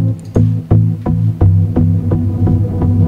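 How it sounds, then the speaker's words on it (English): A sustained tonal sound pulses in a steady, regular throb about three times a second, like a tremolo, produced by automating the built-in reverb of the Gladiator synthesizer, with a washy reverberant tail and no voices. "sounds like tremolo. Actually it is automation for built-in to Gladiator reverb."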